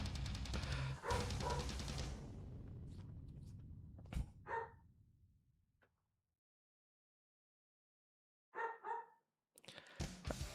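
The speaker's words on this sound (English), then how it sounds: "I don't know if y'all can hear my dogs barking." Several dogs barking in a home, a loud burst of rapid overlapping barks that fades out, followed by silence and then a couple of short, sharp barks near the end.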